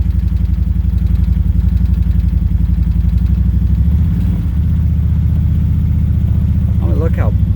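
A Kawasaki Z-950 H.O. EX fitted with an RNG full clutch kit idles and pulls away on very light throttle, giving a steady, close, low engine rumble with a faint rise near the end and a voice talking over it.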